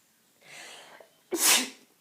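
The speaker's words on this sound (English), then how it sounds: "I thought I was going to sneeze then." A single close sneeze: a short breathy intake followed by a sharp, loud burst of air.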